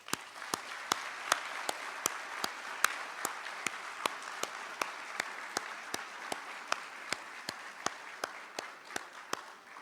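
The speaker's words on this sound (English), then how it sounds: "And please give them a massive round of applause." Audience at a summit opening ceremony applauds volunteers, a soft, distant wash of crowd clapping with regular individual claps standing out, sustained for about ten seconds.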